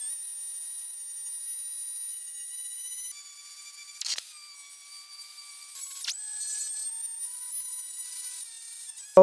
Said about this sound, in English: we're gonna go ahead and grind these welds on the top side and on the bottom side